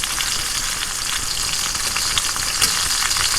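Small pieces of bacon fry steadily in peanut oil, a close, continuous crackling sizzle with dense bright spatter and a few sharper pops, no voices over it.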